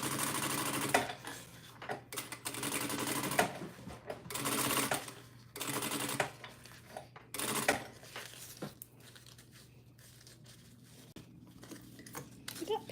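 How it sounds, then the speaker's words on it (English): A sewing machine top stitches a pocket on a pool bag in bursts of rapid stitching separated by short pauses, close and moderately loud over a low steady hum. "I'm just gonna top stitch it."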